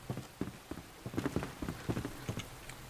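Rain falls in the video game Enshrouded as a soft, steady patter, with irregular louder drops spread across the clip and no talking.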